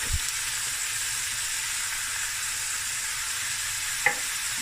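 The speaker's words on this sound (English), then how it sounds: "Let this fry a bit. This is like 2 cloves of garlic." About two cloves of garlic fry in a pot with a constant, dense sizzle close up, broken only by a light knock near the start and a brief clink near the end.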